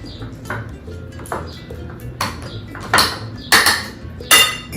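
Cream cheese and Monterey Jack filling is mixed in a bowl for cocktail canapés, with a utensil knocking against the bowl in a series of sharp clinks that grow louder toward the end.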